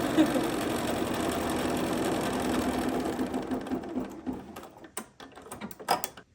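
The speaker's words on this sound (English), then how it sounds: "I'm just gonna go back and stitch the tack down stitch" A machine runs a continuous tack-down stitch with a steady mechanical hum, then winds down into scattered clicks and taps as it stops.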